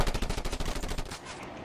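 Rapid automatic gunfire in the video game Just Cause 2, a fast rattling burst of close, loud shots in a tight rhythm that stops abruptly, leaving a fading echo.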